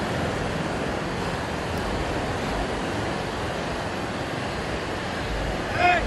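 Steady broadband surf roar of ocean waves breaking at Kannur's drive-in beach in Kerala, continuous and fairly loud, with wind buffeting the microphone and a brief faint tonal sound near the end.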